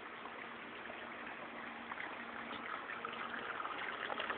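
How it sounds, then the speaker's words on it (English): Steady water cooling flow through a Lexel 95-4 argon ion laser, a continuous broadband rushing hiss at low level with no pauses, heard alone. "And quite a bit of nice water cooling."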